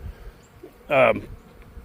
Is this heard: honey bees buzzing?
yes